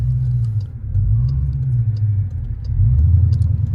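A 1,100 hp Jeep Trackhawk rumbles on the move, its deep engine note swelling and easing as it accelerates, loud and close from inside the cabin, with no talk.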